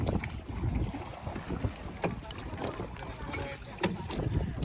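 A boat cruising on the water of Dudhni dam, with a steady broadband rush of hull and water noise mixed with wind buffeting the microphone, continuous and fairly close throughout.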